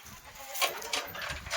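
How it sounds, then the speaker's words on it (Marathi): A small herd of ten goats bleats: several short, nasal cries come close together over a low, steady background rumble. "10 शेळ्या आहे मित्रांनो."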